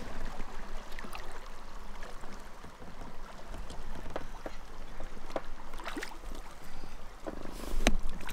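A rowboat drifts on the water during a fishing trip, with soft lapping, creaking and occasional knocks of wood and oars against the hull, quiet and close, under a light wash of wind.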